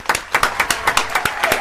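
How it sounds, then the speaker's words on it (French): A studio audience applauding on a French television show, a loud burst of claps from a small crowd with distinct individual hand slaps repeating in an uneven rhythm. "Applaudissements."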